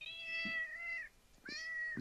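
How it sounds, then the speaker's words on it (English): A house cat meows twice nearby, each a drawn-out, rising-then-falling cry with a short pause between, fairly soft and alone. "He just started meowing."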